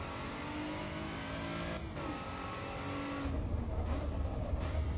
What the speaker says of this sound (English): nice V6 noises here